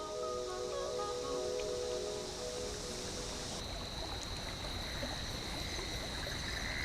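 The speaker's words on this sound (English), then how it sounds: "Sometimes it's nice just to sit by a creek and listen to the wind in the trees." In the video game Big Walk, a bush creek flows with a steady rushing trickle while wind moves through the trees, a continuous dense wash of sound with faint high tones above it.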